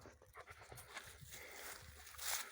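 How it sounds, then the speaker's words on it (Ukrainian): A farm dog pants softly nearby in quick uneven breaths, faint and close with light background noise, no talking. "Собака ось тільки ходить."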